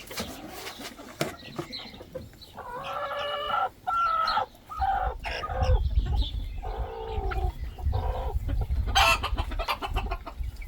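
Chickens clucking at a remote forest homestead, with several hens calling in repeated rhythmic bursts up close over steady low rumbling background noise, and a sharper crow-like call near the end.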